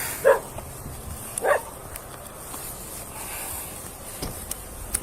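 Two short dog barks close by, one near the start and another a second later, followed by quiet outdoor ambience.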